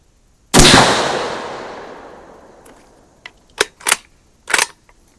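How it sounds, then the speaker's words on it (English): A single sharp crack from a 5.56 bolt-action AR15 rifle rings out with a long fading echo, then a few quieter clicks and clacks follow in quick succession. "shoot our 5 shots"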